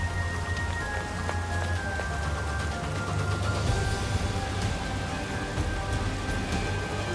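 Steady rain pours down in a Persona 5: Strikers game scene, an even, dense hiss of drops that holds unbroken for several seconds with faint crackles and a low rumble underneath.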